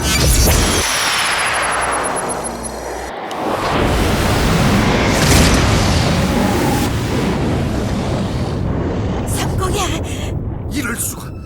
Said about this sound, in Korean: 정해진 부근에서 대폭발이 있었어.